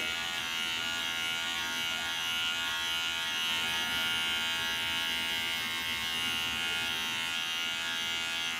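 An electric beard trimmer runs through a beard with a constant, even high-pitched buzz. It stays close and steady the whole time, with no voices.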